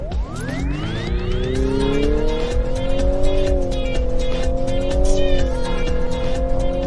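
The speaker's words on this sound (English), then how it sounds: "Today I accelerated the car in 7 8/10 of a second." Infiniti QX55 engine rising under hard acceleration with a continuously variable transmission, a steady strained drone that climbs and holds, loud and close inside the cabin, with faint tire noise beneath.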